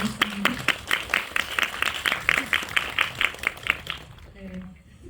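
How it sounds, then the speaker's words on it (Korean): A crowd applauds with steady, dense clapping for about four seconds, then it fades out and a voice starts speaking. "저희 박수 한번 부탁드리겠습니다"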